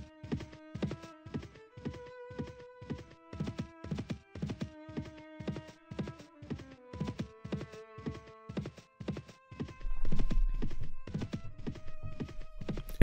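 Steady clip-clop of a horse's hooves while riding in Mount & Blade: Warband, a regular galloping rhythm close by over a sustained musical drone, with a louder rumble joining near the end.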